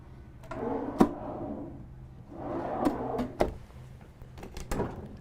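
Drawers in the galley of a 2021 Prevost H3-45 motorcoach slide open and shut several times, each glide ending in a sharp knock or thud, close by and fairly loud.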